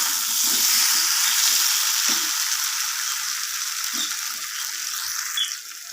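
Eggs and potatoes frying in hot oil while being stirred gently, a steady close sizzle broken by scraping, ratcheting stirs and clinks, with no talking.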